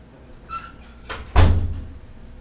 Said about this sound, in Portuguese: vou fechar a porta aqui para não ficar fazendo barulho